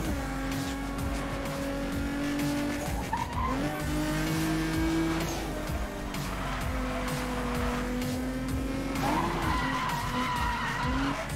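Race car skidding and tire squeal from Need for Speed: Most Wanted, a continuous loud engine drone with shifting pitch, repeated screeching slides and revving through the whole stretch, no talk.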